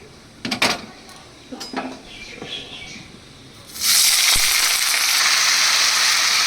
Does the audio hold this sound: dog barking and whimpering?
no